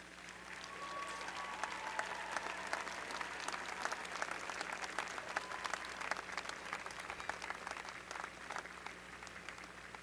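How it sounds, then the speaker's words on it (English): A large commencement audience claps for the seated faculty and staff, a sustained, even wash of applause with sharp individual claps standing out, heard from a distance in a big hall. "give this group of dedicated people a round of applause"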